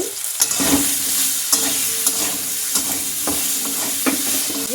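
Mango pieces with turmeric and salt are stirred in a hot pan, giving a continuous bright sizzle broken by regular scraping strokes of a spoon, close and fairly loud, with no talking.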